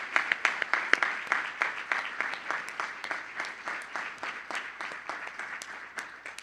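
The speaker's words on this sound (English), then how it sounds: "Let us give them another big round of applause" An audience at a Sri Sathya Sai Aradhana Mahotsavam day program gives a steady round of applause, dense overlapping claps with sharper individual hand claps standing out, sustained at even loudness without talk.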